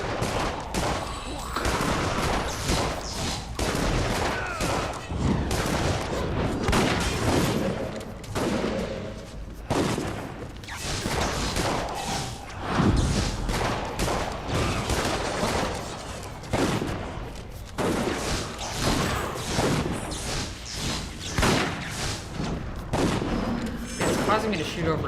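Continuous combat din from Dungeon Siege III in a haunted crypt, shots and impacts packed densely over a loud game soundtrack with occasional voice, never letting up.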